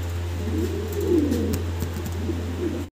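Danish magpie pigeons coo in a low, throaty murmur, a few birds close by, over a steady electrical hum.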